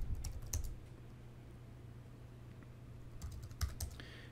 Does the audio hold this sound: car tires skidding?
no